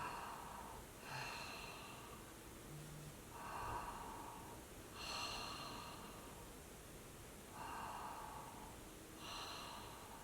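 Ujjayi yoga breathing, a soft whispering rush in the back of the throat, repeats in slow, regular cycles of roughly four breaths, close and quiet, with no talking.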